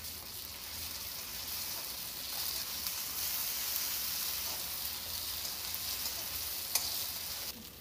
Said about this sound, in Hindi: अब इसमें अदरक लहसुन और हरी मिर्च का पेस्ट डाल देते हैं,